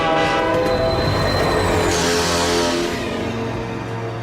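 The Slugterranean Express in an animated Hindi-dubbed Slugterra episode sounds a loud, sustained train horn over rolling rail noise, bending in pitch as it passes, with no talk.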